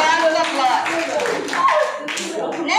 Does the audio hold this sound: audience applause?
yes